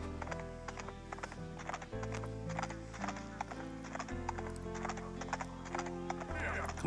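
Horse hoofbeats gallop steadily with a neigh in the video game SurvivalCraft, loud and continuous over a sustained droning game backdrop.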